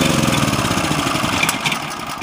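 A Generac portable generator with a leaking carburetor runs at a steady close rumble, its engine drone loud and even for a couple of seconds, then easing slightly at the end.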